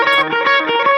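An electric guitar riff played through a strong echo delay with the mix set high and a touch of reverb, so the repeated notes trail and overlap in an atmospheric wash.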